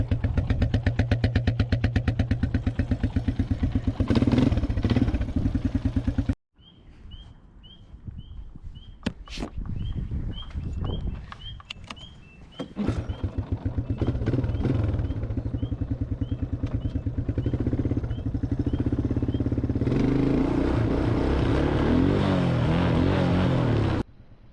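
A four-wheeler's small engine idles and runs, with a steady low chugging at close range, a break with clattering handling noises and faint ticking, then the engine running again with a louder rising section.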